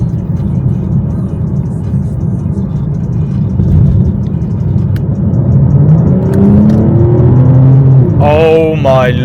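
A fast car accelerates while being driven, a steady loud engine drone and road roar from inside the cabin, building slightly, with a voice briefly speaking near the end.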